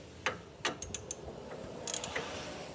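A ratchet loosening brake caliper bolts on a Jeep Compass, heard as a few sharp, close clicking bursts of the pawl spaced irregularly over a quiet background.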